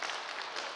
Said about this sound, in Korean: 50명 박수 치고.